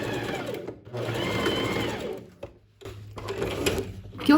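Sewing machine running close by while backstitching a dress side seam, with bursts of rapid whirring broken by short pauses and a mechanical clack as the stitch direction reverses.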